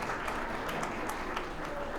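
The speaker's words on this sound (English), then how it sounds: "Yeah, we'll clap for Matt" Applause from guests at a dinner celebration, a steady wash of clapping from many hands at moderate volume, continuous throughout with no speech over it.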